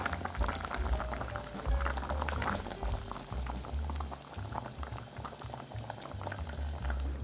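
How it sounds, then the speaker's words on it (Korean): Cabbage rolls simmer in a tomato-style sauce thinned with water and chicken stock in a covered pot over medium-low heat, a steady, close bubbling and popping that runs continuously with no voices. "여기에 물 200ml와 치킨 스톡 2스푼을 넣고 중약불로 1시간 반가량 끓입니다."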